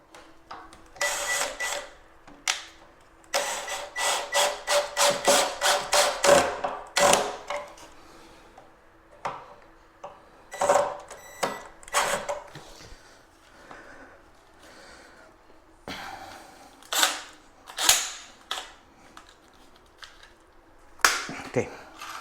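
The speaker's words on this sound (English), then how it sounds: "I'm going to use pocket hole screws." A power drill drives pocket hole screws into wood during a pantry remodel, with repeated close bursts of whirring and ratcheting separated by pauses and quiet handling noises.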